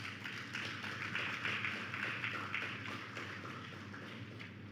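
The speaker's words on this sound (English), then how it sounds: "giving Amanda and the group of students a round of applause" An audience applauding after a talk on the Gaelic Caribbean, a dense, even wash of many hands clapping, sustained at moderate loudness and fading slightly toward the end.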